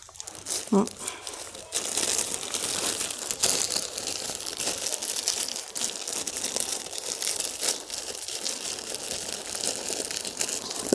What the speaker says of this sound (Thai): ใส่ถุงพลาสติกแบบนี้นะคะ